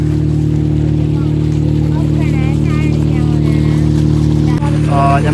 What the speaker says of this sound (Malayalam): അപ്പോൾ നമ്മൾ പോകുന്നത് ബോട്ടിൽ.